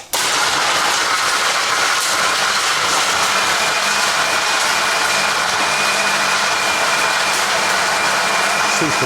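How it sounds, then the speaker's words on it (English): A loud blender grinds and crushes ice for a frozen cappuccino in a harsh, continuous roar that stays steady for several seconds. "the ice makes when it's being chopped up"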